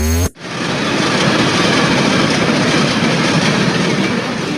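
Cartoon-style sound effect of a train running: after a short tonal sting, a loud steady rumbling roar of rolling wagons starts abruptly and continues unbroken.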